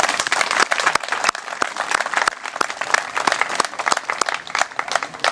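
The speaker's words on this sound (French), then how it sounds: "je crois qu'on peut les applaudir de tout le boulot qui a été fait" An audience claps at the results ceremony of an international float-fishing competition. The applause is loud and lively, with sharp individual claps standing out over a busy crowd rhythm that lasts throughout.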